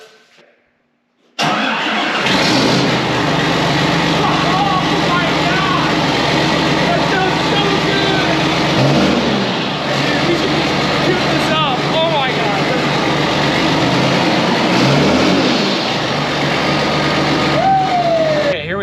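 A loud, rough, straight-piped John Deere 8520 tractor engine idles steadily after a sudden start, echoing inside a building, with voices talking over it.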